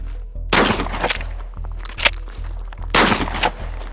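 A shotgun firing slugs outdoors, with two loud sharp booms about two and a half seconds apart over a low steady hum, each followed by brief rattling and thuds.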